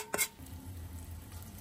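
Pancake batter poured into an oiled 20 cm frying pan on low heat: a brief clatter of the pan or utensil, then a soft, steady sizzle that continues quietly.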